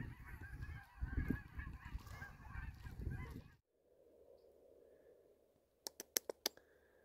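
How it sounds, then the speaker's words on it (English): Geese honk overhead in the outdoors of the Nopiming woods: a dense, loud flock calling for about three and a half seconds, then cutting off to a faint hush with a few sharp clicks near the end. "There's a lot of geese up there"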